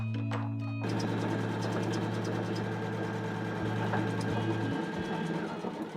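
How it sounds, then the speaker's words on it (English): An embroidery machine sewing a tack down stitch for a mug rug, a steady fast mechanical chatter with a humming motor tone, close and continuous after a brief start-up. "bring this back onto the embroidery machine to do the tack down stitch"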